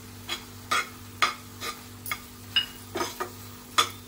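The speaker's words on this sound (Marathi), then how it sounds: "तर आता आपण हा केशरवाला दूध घालूया। चांगलं मिक्स करायचं आहे।" A spoon stirs saffron milk into a no-cook coconut modak mixture in a bowl, making about nine evenly spaced soft scrapes and light clinks against a quiet steady hum, without talking.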